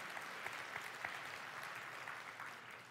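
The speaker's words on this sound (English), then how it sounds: "Yeah, you should clap for that one" An audience claps in a church, a dense, even applause from many hands at a moderate distance, lasting throughout.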